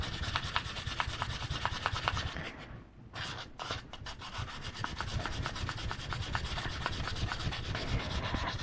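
Steady, continuous rubbing scrape of sandpaper worked against wire earrings, brisk back-and-forth strokes running throughout with a brief lull partway, close and moderately quiet with no voices.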